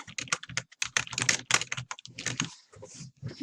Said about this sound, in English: So we'll type her name here.